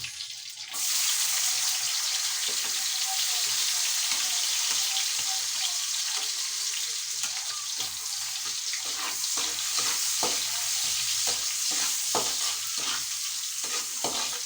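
Onions sautéing in a pan for a bagoong dish with garlic fried rice give a loud, steady close sizzle, with repeated scraping and stirring clicks throughout.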